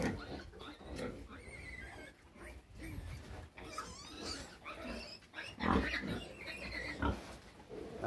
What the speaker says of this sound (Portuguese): Uma porca aqui de porco novo.